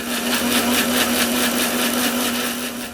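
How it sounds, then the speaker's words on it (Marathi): Steady whir of a kitchen mixer grinder blending ginger, garlic, curry leaves and coriander into a paste, a loud continuous motor hum with a slightly pulsing churn throughout. "आता हे अद्रक, लसण, थोडा कढीपत्ता आणि कोथिंबीर ही छान मस्त बारीक पेस्ट करून घेऊ"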